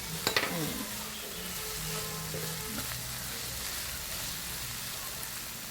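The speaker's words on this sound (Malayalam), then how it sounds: "ഒന്നുകൂടെ വഴണ്ട് പോട്ടെ. എല്ലാം വഴണ്ടിട്ടുണ്ട്." Food sizzles steadily in a hot pan, a continuous crackling hiss with a few stirring clinks at the start, close and fairly quiet.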